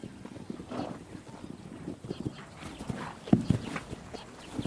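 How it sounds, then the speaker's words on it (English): Mongolian horses' hooves clip-clopping in an uneven walking rhythm, moderately close and fairly quiet, with soft ambient noise around them. "Small but hardy, Mongolian horses endure a harsh climate and grow a thick winter coat"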